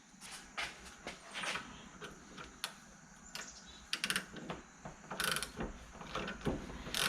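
Ratchet wrench turning a 14 mm bolt on a brake caliper glide pin, giving quiet, repeated clicking pawl sounds and metallic handling noises close by, with no talking.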